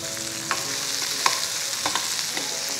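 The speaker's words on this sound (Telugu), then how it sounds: "ఉల్లిపాయ ముక్కలు వేగిపోయినాయి. దీని గుర్తు ఏంటంటే చిట చిట శబ్దం వస్తుంది." Onion pieces sizzle and crackle steadily in a frying pan, a close, continuous hiss with a few sharper pops, no voices.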